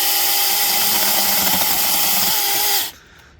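A cheap cordless portable mini chainsaw cuts through an inch-thick branch, a loud, high whining motor buzz that holds steady while biting into the wood, then stops abruptly near the end.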